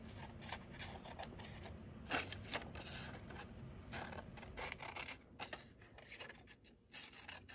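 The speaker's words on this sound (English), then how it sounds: "I'm gonna cut this one that way too." Scissors snipping through paper for stamp and stencil crafting, a run of short close crisp cuts and rustles at low level, with no one talking.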